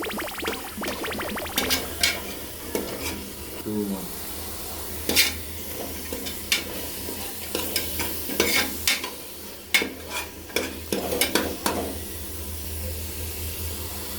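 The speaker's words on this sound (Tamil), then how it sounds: "தேவையான அளவு தக்காளி, நல்லா போட்டு கிண்டணும், நல்லா வதங்கணும்." Tomatoes frying in a pan for chicken biryani are stirred with a spoon, giving repeated scraping and clinking strokes over a steady sizzle, fairly close, with brief faint speech.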